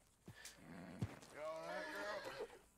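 A pony in Red Dead Redemption 2 whinnies with a drawn-out, wavering neigh, preceded by a couple of short hoof knocks and thumps, heard close and fairly loud with no talk over it.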